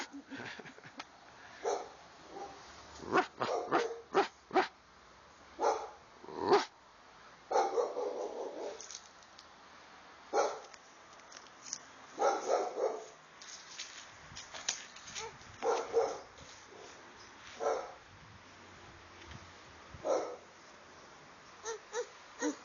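A dog barks in a backyard, with repeated sharp yaps and woofs scattered across the clip at a moderate distance, some in quick pairs. There are also softer vocal sounds between the barks.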